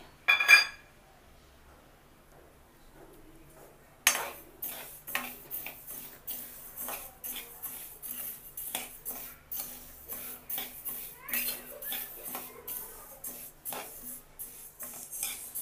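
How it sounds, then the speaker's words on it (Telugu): Sesame seeds dry-roasting in a pan on the stove make a quiet run of light, rapid clicks and scrapes as a spatula stirs them, starting after a short near-silent pause. "ముందుగా స్టవ్ వెలిగించుకొని స్టవ్ మీద బాండిలి పెట్టుకొని 1 కప్పు నువ్వుల్ని దోరగా వేయించుకోవాలి."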